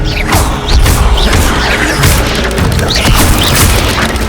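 Spell combat in the Hogwarts Legacy video game: an Expelliarmus cast lands with heavy booming impacts, crashes and swishing whooshes in a dense, loud, continuous battle mix.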